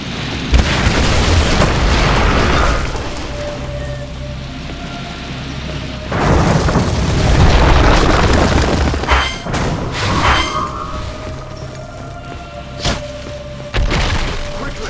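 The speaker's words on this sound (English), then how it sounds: "They're shooting down at us!" Enemies above fire down in the fantasy game Hunted: The Demon's Forge, sending loud, booming bursts of gunfire and impacts through a constant roaring din, with occasional voices underneath.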